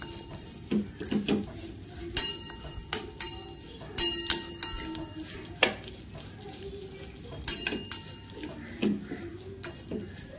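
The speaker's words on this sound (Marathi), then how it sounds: "मग मी थोडे शेवयाला पण फ्राय करून घेते" Vermicelli and coconut fry in a pan for kheer, a low sizzle punctuated by irregular clinks and scrapes of a spoon against the metal, close and moderately quiet, without talking.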